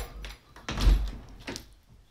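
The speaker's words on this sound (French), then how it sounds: "Je vais fermer la porte." A door is pushed shut indoors, giving one solid thump with a low body near mid-clip. Lighter knocks and a short scrape come before and after it. No one speaks.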